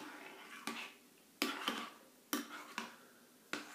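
A spoon or whisk stirring a panna cotta mixture of warmed milk in a dish, giving a few sharp clinks and scrapes against the dish at uneven intervals, close and fairly quiet with no talk.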